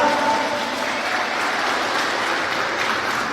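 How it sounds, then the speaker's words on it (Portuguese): Worshippers in a church service clap their hands in praise, a thick, even roar of applause filling the room from start to finish. "Louva o Senhor com suas palmas"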